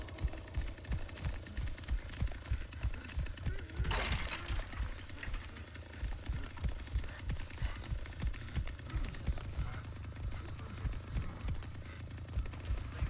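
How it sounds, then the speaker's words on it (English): Rapid bursts of gunfire in the Texas Chainsaw Massacre video game, dense rattling shots that repeat continuously and fairly faintly, with one brief louder swell partway through. "there's one that keeps shooting me out down here too"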